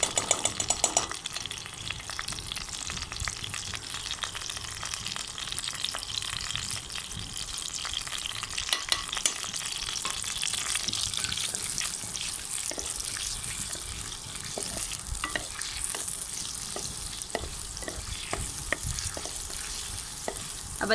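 Garlic and ginger paste frying in a pan while being stirred, a continuous crackling sizzle with frequent scraping strokes from the spoon, close and fairly loud, no voices.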